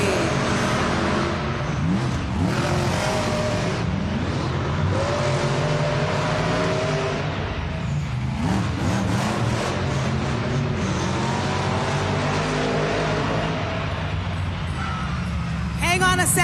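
Monster trucks at a Monster Jam event in Arena West, Tacoma, Washington, roar steadily as engines rev and race around the arena, loud and continuous, with a crowd and an announcer's voice underneath.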